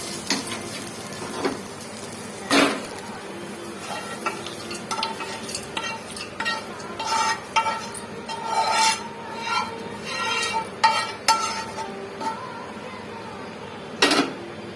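Fried curry leaf mixture being stirred into rice in a pan: repeated scraping and stirring strokes with occasional clinks of a spoon on metal over a faint sizzle, close and irregular.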